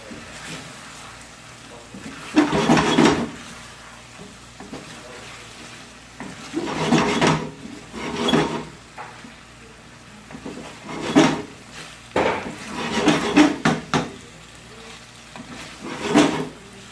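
Chicken karahi with black pepper and garam masala stirred in a pan, several separate bursts of loud scraping and sizzling spaced a few seconds apart over a quiet, low background hiss.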